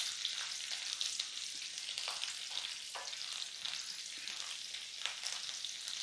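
Cumin seeds and green chilies frying in hot oil for methi pitla, a soft, continuous sizzle with occasional stirring scrapes and no voices.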